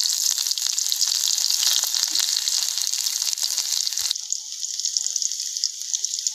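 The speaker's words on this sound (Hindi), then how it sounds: "तो इसमें हम सरसों का तेल डाले थे, वो गर्म हो गया है और यहाँ पर मेरा फौरन है, तेजपत्ता और प्याज, तो हम इसको भी डाल देते हैं" Bay leaves and onion drop into hot mustard oil and fry with a loud, steady hiss and crackle close by, which eases slightly partway through, with no talking.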